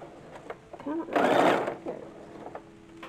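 A sewing machine runs in a short burst of about a second, stitching a narrow quarter-inch double-folded sleeve hem on small doll underwear for an antique 1850s porcelain doll, with quiet room noise before and after.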